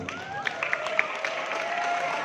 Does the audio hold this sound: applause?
yes